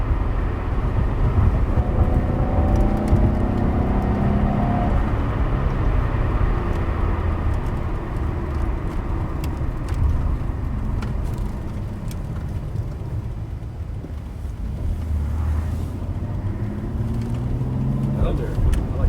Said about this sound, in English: Love that turbo. Love the turbos, man.